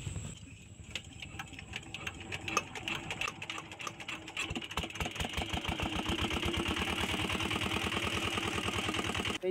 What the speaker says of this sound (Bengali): এখন ইঞ্জিন স্টার্ট দিব।